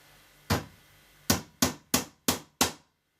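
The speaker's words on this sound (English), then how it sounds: "I've also got his tack hammer here." An old tack hammer striking six sharp taps, one alone and then five in a quick even run, each crisp and close with a short ringing decay.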